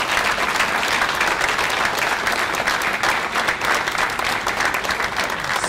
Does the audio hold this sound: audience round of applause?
yes